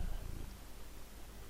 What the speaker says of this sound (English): because it's such a loud purring noise